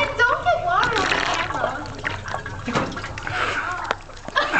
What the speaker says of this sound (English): Ben, don't get water on the camera